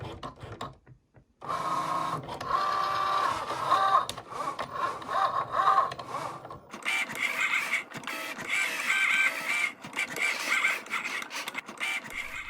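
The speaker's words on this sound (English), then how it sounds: "Cricut makes it as easy as loading up the blade and pressing the button." Cricut Joy cutting machine cutting iron-on material, a close whirring, buzzing motor with shifting pitch as the carriage moves back and forth, running continuously after a short quiet start, no talking.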